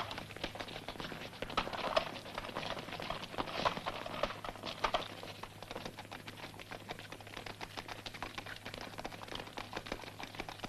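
A horse's hooves clip-clop in a steady, fairly quick rhythm at moderate distance, with no talk over them.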